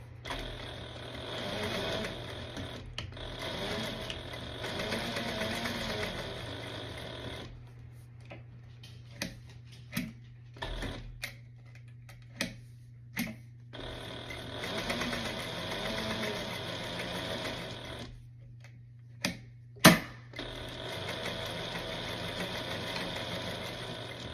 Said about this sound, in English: So I'm going to take both of those flaps over to the sewing machine to do that first.